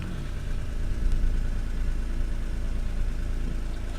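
Close-up exhaust note of a 1992 Acura NSX engine idling, a steady low rumble with a slight swell around the first second, then an even, continuous drone with no voices.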